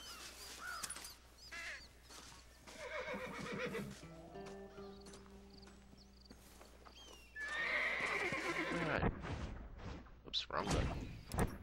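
A horse in the Red Dead Redemption video game whinnies twice and its hooves clip-clop, with other game sounds and bird caws around it and someone talking in between.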